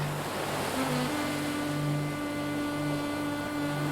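Ocean waves washing in a steady, continuous surf wash, alone with a faint low tonal hum underneath and no talking.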